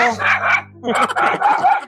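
A dog barks in a series of sharp, close calls, with a person talking nearby between and over the barks.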